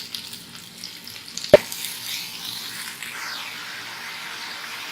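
Onions sautéing with salt in a pan, making a soft continuous sizzle with one sharp knock partway through and faint stirring afterward.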